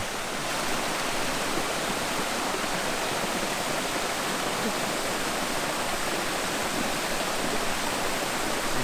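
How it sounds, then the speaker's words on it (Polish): Warm water cascades steadily over the travertine terraces of the San Filippo hot springs in Tuscany, a dense, unbroken rush of splashing that continues evenly throughout, with no voices over it. "jakie to są kaskady wodne"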